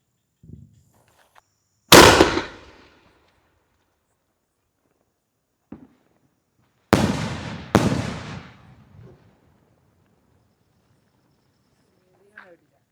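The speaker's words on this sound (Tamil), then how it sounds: "மேலே போய் டபுளாக வெடிக்கும்." Diwali aerial firework shots: one sharp, loud bang near the start, then a pair of bangs about a second apart, each trailing off in a crackling decay, with quiet pauses between.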